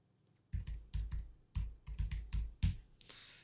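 Short bursts of typing on a computer keyboard, close and crisp, keys clicking in quick irregular clusters with brief pauses between runs.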